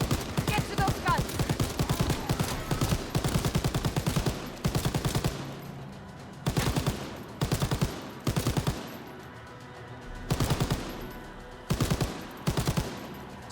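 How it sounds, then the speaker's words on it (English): Machine gun fire in a zombies video game, loud sustained bursts separated by short pauses, repeating rhythmically throughout. "You have to kill them all with the machine gun."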